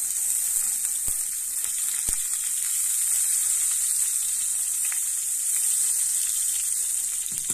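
Whole dry cumin seeds sizzle in hot oil in a kadai, a steady, close, bright hiss that holds throughout with a few faint pops and clicks, no voices.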